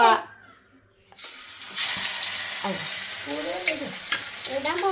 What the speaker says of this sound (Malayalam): എണ്ണ ചൂടായി നമുക്ക് ഓരോ കഷ്ണം മീൻ എടുത്ത് വറക്കണം.